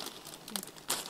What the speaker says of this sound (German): Tüten aufreißen.